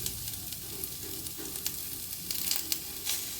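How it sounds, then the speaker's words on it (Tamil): Tomato, garlic and onion sauté in hot oil in a pan, a steady close sizzle with light stirring scrapes, no voices. "இந்த தக்காளி, வெள்ளைப்பூடு, வெங்காயம் எல்லாம் வந்து நல்லா எண்ணெய் விட்டு வதக்கிடலாம்."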